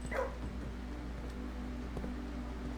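A dog barks inside the Blue Prince video game, in the Safehouse room: one short, faint yelp near the start over a steady low room hum, then only the quiet hum.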